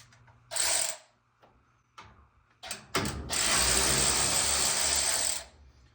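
A 3/8 inch drive ratchet fitted with a T20 Torx socket, used on a Maytag washer repair, gives a short burst of close clicking, then after a pause a longer steady run of loud ratcheting.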